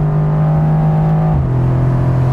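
A 2021 Mercedes-AMG GTR drives along at altitude, its engine a loud, steady hum with a low drone that dips slightly in pitch partway through, heard from inside the car.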